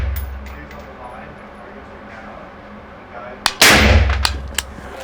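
Gunfire on an outdoor shooting range: after a stretch of low background rumble and murmuring voices, one sharp report cracks out, followed at once by a louder blast and a few quick trailing impacts, close and punchy.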